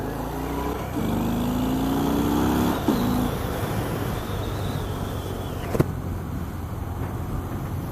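A 2018 Harley-Davidson Fat Bob motorcycle pulls away and rides on, its engine rumbling and rising through a gear before settling into a steady cruising drone with wind noise.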